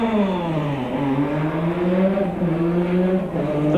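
A 1984 Formula One race car at the San Marino Grand Prix drops through the gears entering the pits, its high-pitched engine note stepping down in repeated falling sweeps, loud and close throughout.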